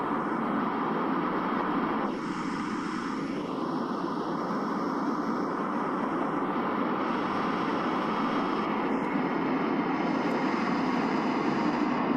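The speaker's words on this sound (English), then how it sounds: "The planes are so loud you can't hear anything else when they're flying over." Airplanes fly overhead in the video game Escape from Tarkov, a loud, constant engine roar that fills the whole stretch with a slowly shifting drone and no speech.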